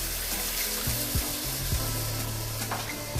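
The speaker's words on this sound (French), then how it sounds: "Ajouter une portion d'eau." Water poured into a pot holding cleaned smoked fish, a steady rushing splash under a low droning background with faint kitchen clatter, no speech.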